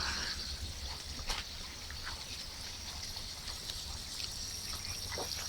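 Faint, steady trickle of water running into plant roots in an aquaponics setup, with occasional soft drips over a low background hum and no voices.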